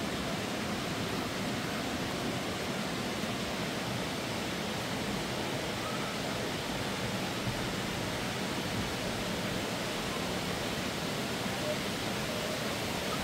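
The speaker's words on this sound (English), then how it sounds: "Look at all these. Little waterfalls." Several small waterfalls near Branson, Missouri give a steady, even rush of falling water, a constant broadband hiss with no talking over it.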